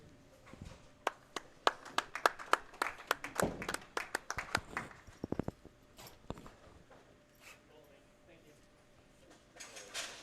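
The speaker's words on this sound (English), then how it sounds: "let's give it a round of applause for these two bowlers" A small crowd at a bowling tournament final gives scattered applause, with distinct individual claps that are fairly sparse and then thin out, and a voice talking briefly near the end.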